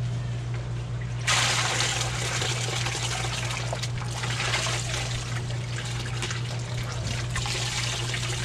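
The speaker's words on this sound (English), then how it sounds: "We will dump this soapy water out and then put some clean water in the rinse." Soapy water dumped from a washing tub at a provincial park campsite, a sudden heavy gush of pouring and splashing that begins abruptly and runs on steadily over a constant low hum, with no voices.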